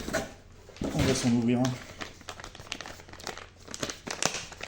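Crinkly plastic packaging torn open around RC drift car tires, close rustling and crackling with a voice talking over part of it.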